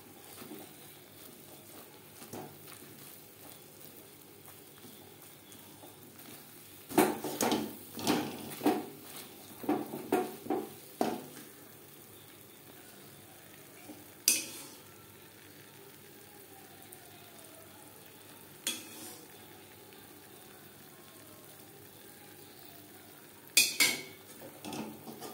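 Oil and ghee sizzle faintly as a dilkhush mixture is stirred in a pan, with intermittent metallic scraping bursts of the utensil against the pan.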